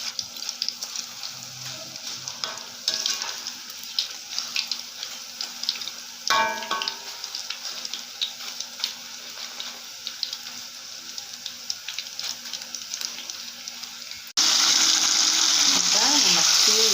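Nendran plantain slices fry in hot oil with a steady, busy sizzle and crackle that runs throughout, growing louder and denser near the end, with occasional utensil clinks.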